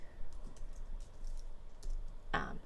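Fingers typing text on a computer keyboard, a few soft scattered key clicks at close range with one louder tap near the end, quiet and irregular rather than a fast steady rhythm.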